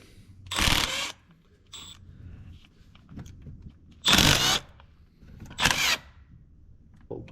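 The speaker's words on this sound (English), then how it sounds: "we have our electric ratchet here" An electric ratchet loosens 10 mm bolts while installing an intake horn on a 6.7 Cummins engine, several short bursts of whirring and rattling, each about half a second, separated by quiet pauses and small clicks, close by.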